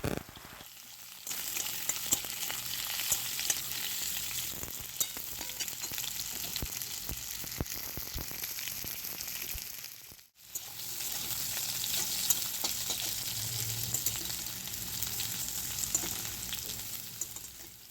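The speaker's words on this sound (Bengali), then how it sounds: "এই আলু আর কাঁকরোলটা প্রথমে হালকা একটু ভেজে নেওয়া হবে" Potato and kakrol (spiny gourd) pieces sizzle steadily in hot oil, a dense continuous frying hiss that drops out briefly near the middle before resuming just as strongly, with no voices.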